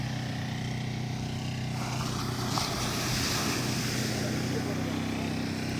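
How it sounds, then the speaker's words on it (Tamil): Sea waves wash ashore at Palavakkam beach on the ECR, a broad steady surf roar mixed with wind buffeting the microphone, loud and continuous, with boats out on the water. "இப்போ நம்ம வந்து கடல்கிட்ட வந்துவிட்டோம்"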